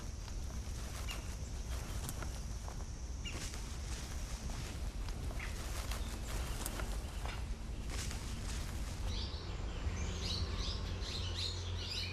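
Birds sing in a Himalayan lowland forest, many chirps and tweets overlapping against a dense, constant wash of forest ambience, moderately distant and steady throughout with no talk.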